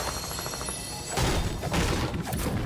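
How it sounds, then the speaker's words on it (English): A burst of loud, sharp cracks and thuds goes off in quick clusters, like gunfire outdoors, following a stretch of steady background noise. "There's some gunfire out there"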